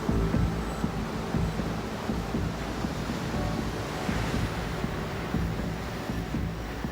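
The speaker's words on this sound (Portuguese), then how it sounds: "As ondas estão mais altas porque um furacão se aproxima da ilha." Strong storm winds and high, heavy ocean surf pound an island shore as a hurricane approaches, a dense continuous roar of crashing waves and wind buffeting the microphone with no voices.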